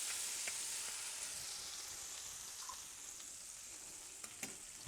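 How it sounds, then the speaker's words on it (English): Butter sizzling in a frying pan for a light caper sauce after searing scallops, a soft, even hiss running throughout, fairly quiet, with a couple of faint clicks near the end and no talking. "Put some more butter in the pan and make a light kind of just a butter sauce with some capers in it"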